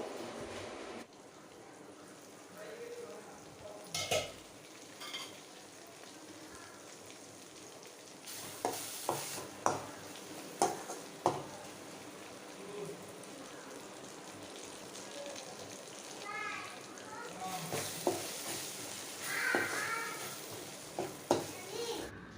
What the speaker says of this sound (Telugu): మసాలాలు అయితే ఇలా బాగా ఫ్రై అయిపోయాయి కదా